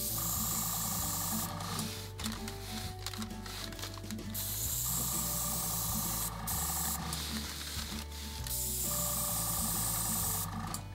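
An aerosol can sprays black paint through a 3D printed stencil onto a prop, masked off around it. The can gives several long, close, forceful hissing blasts with short pauses between them, and no voices.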